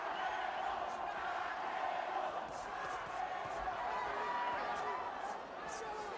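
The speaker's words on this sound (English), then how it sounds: "Alvarez's crowd jumping into it and cheering him on." A boxing crowd in an arena during a fight roars and cheers in a steady, dense wash of noise, with a commentator talking over it.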